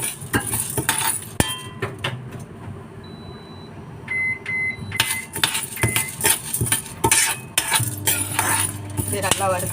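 Chana dal dry-roasted in a pan with a little oil, a utensil scraping and clinking against the metal in steady bursts, with a couple of short electronic beeps midway and no talking.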